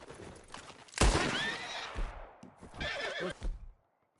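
A horse in the video game Red Dead Redemption 2 lets out a loud, close whinny, followed by a second shaky neigh, with thudding hoofbeats and clatter in between.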